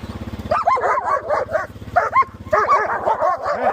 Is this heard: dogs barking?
yes